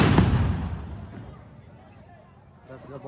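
A firecracker bomb at a village festival near Vizag blasts once, loud and booming, then rumbles away over a couple of seconds before fainter crackling begins.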